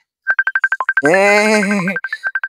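A mobile phone rings for an incoming call: a rapid run of bright electronic beeps, then a sustained warbling melodic tone, then more beeps. It is loud and close, and no one speaks.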